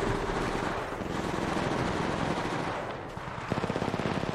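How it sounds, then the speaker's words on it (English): Sustained gunfire in a video game, a steady rumbling barrage giving way near the end to a fast, evenly spaced rattle of automatic shots, loud and continuous with no talking. "Getting shot at."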